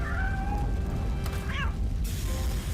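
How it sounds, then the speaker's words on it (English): A cat meows inside a store in the Robocop: Rogue City video game, a couple of short rising meows heard over a steady, loud background of game ambience and noise. "Let's see if we can find that cat."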